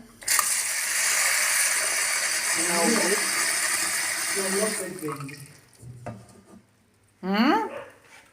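A kitchen tap runs steadily into a pot of water for boiling lunch pasta, a continuous close rush for about four and a half seconds before it shuts off, with people talking over it and afterward.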